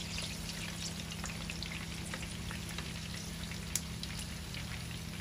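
Pitha frying in hot oil, giving a steady close sizzle dotted with small crackles and pops that runs unbroken throughout, with no voices.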